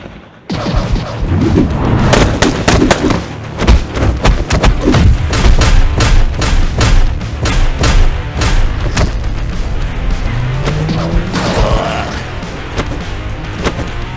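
Rapid gunfire and heavy booming impacts in an animated drama shootout, loud and nearly continuous, with bursts of shots and thuds layered over one another throughout.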